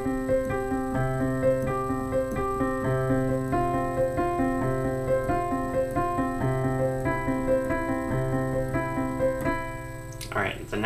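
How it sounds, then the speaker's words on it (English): Close solo piano plays a run of chords from a song, evenly paced sustained chords ringing clearly, ending with a short knock as the playing stops. "So together it sounds like this."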